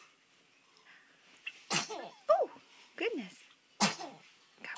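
A nine-week-old baby sneezes several times, small sharp bursts close to the microphone, followed by quiet fussy squeaks, with someone speaking softly over them.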